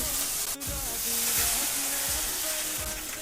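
Loud, steady sizzling of mixed gravy poured into a hot pan while cooking curry, frying hiss throughout with rhythmic scraping stirs and a brief dip early on, no talking.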